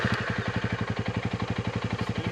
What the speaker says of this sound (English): Start the bike.